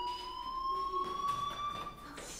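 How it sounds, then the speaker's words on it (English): A fire alarm rings in the video game Life Is Strange, a steady, loud electronic tone that holds without a break, with a few softer sounds underneath and no clear speech. "Hey, do you hear that fire alarm?"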